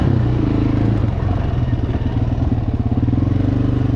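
Motorcycle engine revving hard during a burnout in a swamp, a loud, close, steady throbbing drone that wavers slightly in pitch throughout.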